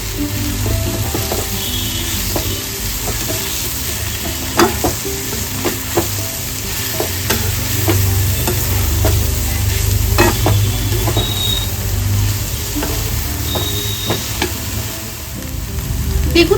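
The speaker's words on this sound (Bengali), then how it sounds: "এবার আমি মাছগুলোকে ভালো করে মশলাটার সাথে মিক্স করে নেব" Fish pieces being stirred and mixed with spice masala in a bowl while making Bengali fish chops, giving soft wet squelches and scraping clicks in an irregular rhythm, close and fairly steady, with no talking.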